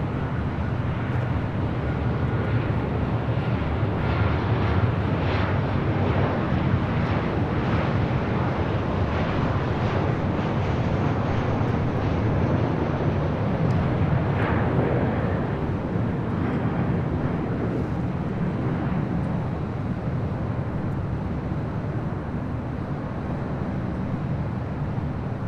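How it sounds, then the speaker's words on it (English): A Hawaiian Airlines A330 airliner taxiing toward a north-side takeoff at LAX, with a steady, loud broadband engine rumble and some wind noise throughout, without pauses. "Hawaiian A330 on the move, heading up here for a north side takeoff."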